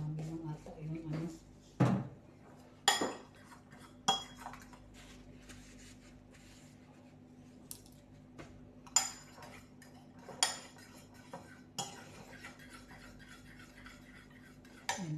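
Sardines being mixed with a utensil in a pan, sparse clinks and scrapes of metal on the pan at irregular intervals over a quiet background, with a voice speaking at the start.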